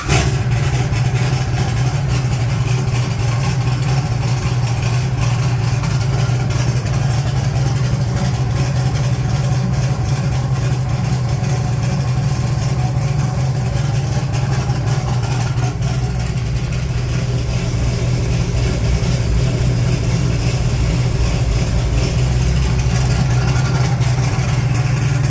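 A 1980 Trans Am with a blow-through carburetor idles steadily and close up, its low, even engine rumble running throughout with no talk.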